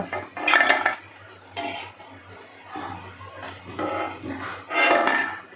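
Fried potato pakoras lifted from a pan of hot oil: several bursts of metal utensil scraping and clinking against the pan over a soft background sizzle, moderately close.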